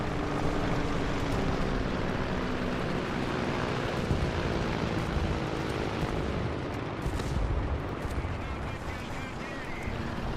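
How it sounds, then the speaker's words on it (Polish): T-60 light tank engine runs in War Thunder, a dense, steady droning rumble that holds loud and unbroken throughout, with faint clanks and bursts layered over the constant mechanical noise. "Dobra, silnik działa."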